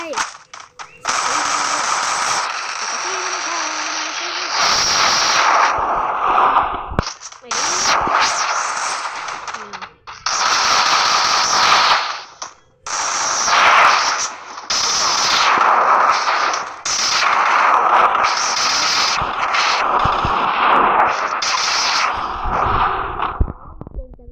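AK rifle fire in a video game, loud sustained automatic bursts with short gaps, running nearly continuously and close up.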